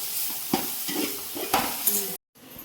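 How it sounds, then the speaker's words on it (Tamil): Onions sauté with ginger garlic paste for chicken biryani, giving a close, dense sizzle with a few sharper stirring scrapes before a brief cut to near silence. "நல்லா இஞ்சி பூண்டு பேஸ்ட்டும் ஆனியனும் நல்லா வதங்கணும்."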